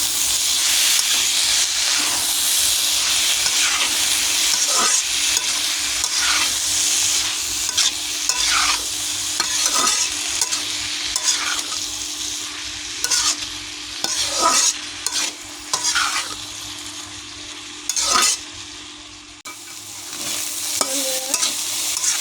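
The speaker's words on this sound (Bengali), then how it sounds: "এখন আমি ভালো করে নেড়ে দেবো" Banana flower fry being stirred in a hot pan, a steady loud sizzle with repeated scraping strokes of a spoon through the spiced mixture, close and continuous with no talk.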